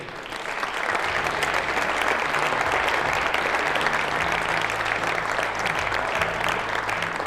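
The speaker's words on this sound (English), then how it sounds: "give a round of applause to Italy's Rebecca Lesti" Sustained audience applause at a junior women's air pistol European Championship final, greeting Italy's Rebecca Lesti at her elimination; dense, steady clapping fills the clip from start to finish at even loudness, with a low hum underneath.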